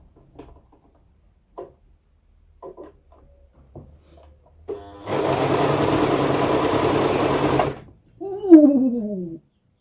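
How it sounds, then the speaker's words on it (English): A sewing machine stitches fabric in a camper van, running in one steady, loud buzzing burst of about three seconds after a few soft clicks and handling sounds, followed by a short vocal exclamation. "I'm sewing something."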